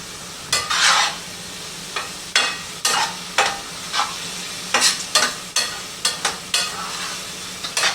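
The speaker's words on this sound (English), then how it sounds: "Let it simmer for another 2 to 4 minutes until it thickens up." Beef filling for beef flautas simmering in a pan, with a soft steady bubbling hiss broken by repeated scraping stir strokes and brief clatters of a utensil against the pan, close and with no talk.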